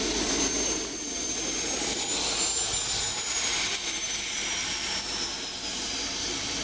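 F-16 fighter jet engine roaring steadily in the background at an airshow, a continuous loud broadband rumble with a high whine on top, with no talk over it.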